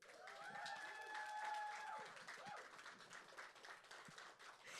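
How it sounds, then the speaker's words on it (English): An audience at an outdoor party-style gathering breaks into faint, sustained applause and scattered clapping, with a few brief whistle-like tones over the start and a crowd murmuring underneath. "Can we give up a big round of applause"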